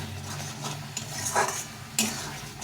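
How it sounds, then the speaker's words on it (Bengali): Tomato pickle is stirred in a pan to dry it out, giving soft scraping and shuffling with a faint sizzle and a couple of sharper utensil knocks against the pan. "তো এইভাবে নেড়ে নেড়ে শুকিয়ে নিতে হবে"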